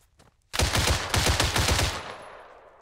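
Automatic gunfire in the video game Arma 3 erupts after a faint tap, a loud close burst of rapid shots for about a second and a half that decays into a fading echo.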